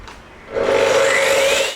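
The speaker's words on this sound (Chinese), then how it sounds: "如果铺木地板装门的话，还会用到斜切锯。" A miter saw used in home renovation carpentry cuts through wood in one roaring, close burst of about a second, its motor pitch rising as the blade spins up, then dropping off.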